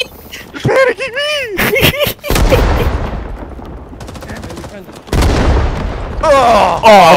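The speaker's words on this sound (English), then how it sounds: "I didn't hear the grenade because there were so many fucking explosions" Rapid gunfire and booming blasts from the video game Rising Storm 2 crash in bursts, with warbling synthetic tones early on and loud explosions throughout.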